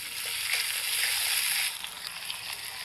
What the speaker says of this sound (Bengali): পেঁয়াজটা হালকা ভাজা হয়ে আসলে এতে কাঁচা লঙ্কা ও টমেটোগুলো দিয়ে আবার ভালো করে নেড়ে নেব